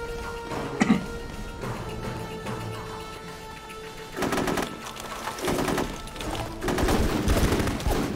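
Squad rifles rattle in the Full Spectrum Warrior video game: short bursts of gunfire at first, then heavier sustained volleys after a lull, loud and near, with a faint hum underneath and no speech.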